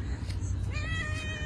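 Hungry stray cats meowing outdoors at a feeding spot, a few faint overlapping meows over low background noise.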